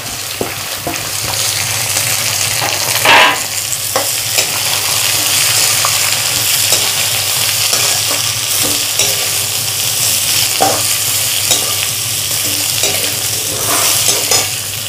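Green chilli, carrot and onion fry in a pan for tomato pidi kozhukattai, a steady close sizzle broken by frequent scraping stirs of a spoon against the pan, with no talking.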